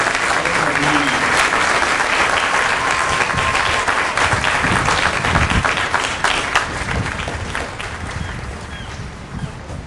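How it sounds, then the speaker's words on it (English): Sustained applause from a large audience at a military company graduation ceremony, a dense, steady roar of many hands clapping for the full stretch and tapering slightly near the end. "Ladies and gentlemen, please join me in a round of applause for the company staff of Company E"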